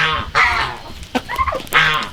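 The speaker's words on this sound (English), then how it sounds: "What you eating, chickens?" Chickens and turkeys on a farm give short clucks and gobbling calls at close range, several bursts spread across a couple of seconds, while a person nearby talks to them at feeding time.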